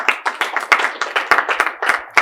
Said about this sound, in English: a big round of applause for all the supporters